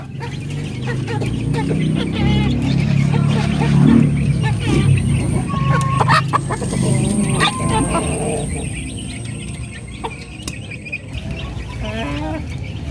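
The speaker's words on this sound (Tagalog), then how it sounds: "Tulman tayo sa nag-iisang darag natin na to." A young hen, a pullet (darag), clucking close by among other farm fowl outdoors, soft repeated clucks mixed with louder background noise and people talking.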